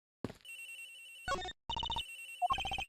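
A phone rings in the Ace Attorney Investigations video game: a short electronic ringtone in bursts of bright, repeating tones separated by brief silences, clear and alone with no talk.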